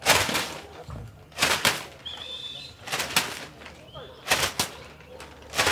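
Released racing pigeons fly in a strong north wind, wings beating in repeated loud bursts of flapping and rushing wind, with a faint bird call between them.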